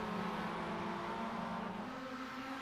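A Mazda MX-5 Cup race car in a sim racing game, its engine note droning steadily and then stepping up in pitch as it downshifts into a corner, faint and distant with no talk.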